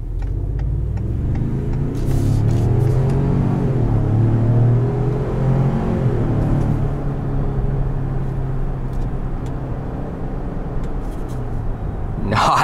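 A 2019 Ford Expedition pulls hard from a standstill, its engine rising in a loud, steady rumbling roar heard from inside the cabin, then easing into a smooth cruising hum.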